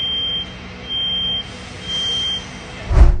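A loud electronic beep repeats in steady, evenly spaced tones for hours in a neighbourhood, ending with a sudden thud at the close.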